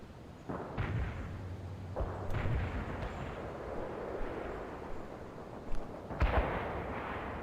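Napalm strike in the strategy game World in Conflict, heard as a long, dense rumble of explosions with a few sharper blasts breaking through near the start and end.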